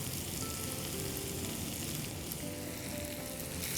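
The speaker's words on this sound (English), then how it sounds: "The potatoes will go on this and try and spread it all over the pan." Potatoes frying in a pan for Parsi-style papeta par eeda, a steady dense sizzle that holds loud and even throughout with no talking.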